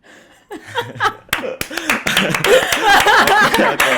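Clapping hands break out in a lively burst that grows into sustained applause, mixed with laughter and chuckles from several people in a room.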